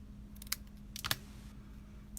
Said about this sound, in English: cut in the center, just up a little snip